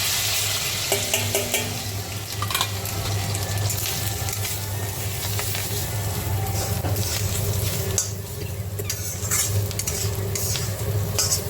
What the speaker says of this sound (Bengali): কাঁচা লঙ্কা দিয়ে দিলাম তেলের মধ্যে, ঝাল হবে